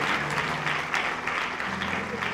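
A church congregation claps and cheers together in a sustained, dense wash of applause that fills the whole moment, fairly loud and close, with no clear gaps.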